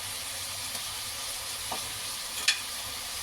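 Chili powder and coriander powder fry in a pan for radish sambar with a soft, steady sizzle. A few quiet scrapes and taps from stirring come through, the sharpest near the end, and no one speaks.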